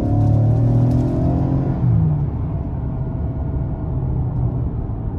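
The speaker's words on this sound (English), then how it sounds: "Give it some throttle here." A 2023 Ford Explorer ST Line with a 2.3-litre turbo four-cylinder accelerates in sport mode, its engine note rising briefly and then settling into a loud, steady cabin rumble with road noise.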